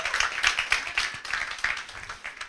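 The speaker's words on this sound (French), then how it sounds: "On s'applaudit." Audience clapping for mothers at a community health event in Côte d'Ivoire, a lively patter of hands with a few sharper individual claps standing out, moderately loud and close.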